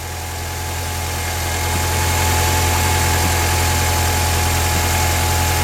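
A Mini Cooper engine idles steadily at close range during a tensioner repair, with a low, even rumble and hum that swells slightly at first and then holds constant, with no talking.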